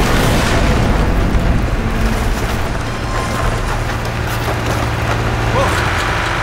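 In Portal 2, a wall is forced open by manual override with a loud, continuous grinding and splintering rumble, heavy low crashes and creaks running throughout.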